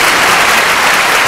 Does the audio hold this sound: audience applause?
yes